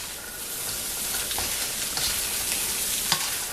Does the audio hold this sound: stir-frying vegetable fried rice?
yes